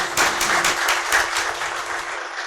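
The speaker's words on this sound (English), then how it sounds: "Please, a round of applause for everybody." Audience members at a Pathfinder group Citadel gathering clap for the speakers, a brief round of applause with distinct clap bursts, fairly close and moderately loud, tapering off at the end.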